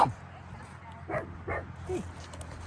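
A dog at a cemetery during headstone cleaning gives three short, sharp barks at moderate distance, spaced about half a second apart, over a low steady background hum.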